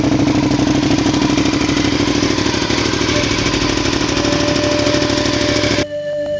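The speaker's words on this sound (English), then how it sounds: "This is one of the best sounding motorcycles you can possibly get." A Honda V-twin sportbike engine runs loud and close with a rough, throbbing, pulsing rumble that holds steady for about six seconds and then cuts off abruptly, leaving a quieter background.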